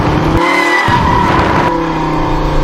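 A car engine roars loud and close throughout as the vehicle swerves along a narrow road past oncoming traffic, with tire noise and shifting engine pitch in a continuous, unbroken stretch.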